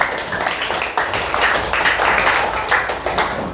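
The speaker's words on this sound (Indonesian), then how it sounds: "Tepuk tangan untuk ketiga teman kalian." Classroom clapping for three students, a group of hands applauding in uneven bursts with sharp individual claps standing out, fairly loud and close throughout.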